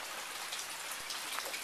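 Rain pattering steadily into a rain barrel collection system, a dense continuous hiss of drops with one soft thud partway through.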